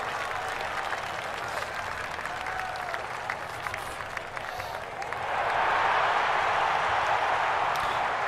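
Crowd applause rises in the stadium stands of EA Sports PGA Tour, a steady patter of clapping that swells louder partway through and then holds.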